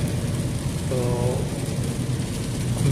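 Steady rain falls throughout on a dim, overcast day, a dense, even wash of patter with low rumble underneath, fairly loud and continuous, with a brief faint tonal sound near the middle.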